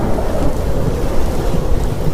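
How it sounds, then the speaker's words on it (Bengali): Thunderstorm outside a roadside tea stall, with dense heavy rain and gusty wind roaring steadily and loudly, a deep rumbling undertone throughout and no voices. "বাইরে বৃষ্টিটা ভালোই বেড়ে চলেছে, তার সঙ্গে পাল্লা দিয়ে বেড়ে চলেছে ঝোড়ো হাওয়া।"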